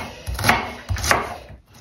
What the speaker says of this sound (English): we have to chop the onions, stick them on a plate